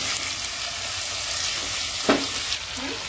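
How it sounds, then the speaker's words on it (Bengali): Chicken coated in ginger-garlic paste sizzles steadily in a pan while being stirred, with a couple of brief scraping knocks near the end; no one speaks. "সেই জন্যে আদা রসুনের পেস্ট দিয়ে একটু নাড়ানাড়া করছি।"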